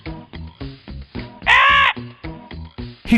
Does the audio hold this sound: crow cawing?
yes